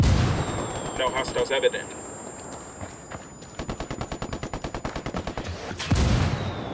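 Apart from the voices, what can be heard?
gunfire from the video game Ghost Recon Wildlands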